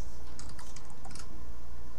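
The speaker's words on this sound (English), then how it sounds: "Typing away." Rapid clicking of keys on a computer keyboard, a short burst of typing in the middle of the stretch over a steady low background hum, with no talking.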